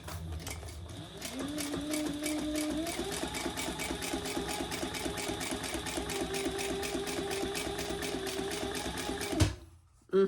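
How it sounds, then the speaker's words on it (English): A sewing machine stitching a notebook cover at a long stitch length, a steady fast rhythmic whir that rises slightly in pitch early on, runs continuously and stops abruptly near the end. "now let's sew it. And I've got a stitch length of 5."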